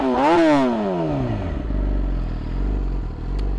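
A 2017 Yamaha R6 sport motorcycle with an Akrapovic exhaust, revved sharply once up to a high whine and then dropping back to a steady, loud, rumbling idle close by, with no talking.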